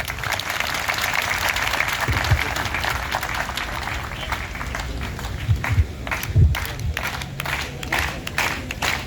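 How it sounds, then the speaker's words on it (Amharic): A crowd applauding steadily at a political speech event, dense sustained clapping throughout with a few louder claps standing out, close and full. "ሞቅ ባለ ጭብጨባ ተቀበሉልን"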